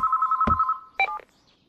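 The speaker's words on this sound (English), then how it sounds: "can you get the phone? What are you doing, Josuke? Answer the damn phone" A telephone rings in a steady electronic trill, then stops with a short click and a brief answering tone, heard close and alone with no talk, in an anime scene.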